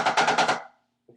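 Tenor drum roll played on the drums and rims, a rapid burst of close, loud strokes lasting about half a second before cutting to silence, followed by a faint brief sound.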